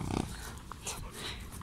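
A dog makes short growling, snorting sounds near a horse, a young colt, on a walk outdoors, with breathy bursts over steady background noise and no speech.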